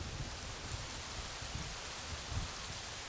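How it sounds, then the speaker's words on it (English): Steady rain falling in the video game Rising World, a continuous even hiss of downpour with soft low rumbling patches, moderately quiet and heard alone without talk. "Oh, we're going to get some rain here, too."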